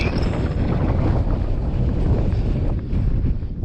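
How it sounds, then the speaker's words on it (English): Heavy storm wind on the Rhinns of Galloway coast buffeting the microphone in a continuous low rumble, loud and close, with no voices. "It's a bit windy."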